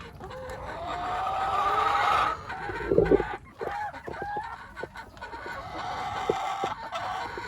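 Chickens clucking at close range in a garden, a mix of repeated clucks and drawn-out calls with a few sharp bursts, continuing over a steady outdoor background.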